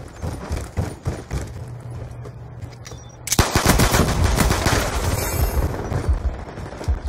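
Rapid automatic gunfire in a free-for-all first-person shooter match, with scattered shots early on, then a loud, dense sustained burst of fire in the second half.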